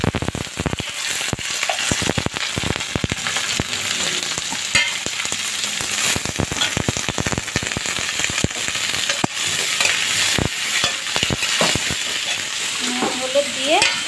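Beetroot and cumin seeds frying in hot oil, a dense continuous sizzle with sharp crackling pops and occasional stirring scrapes, close and steady throughout with no talking.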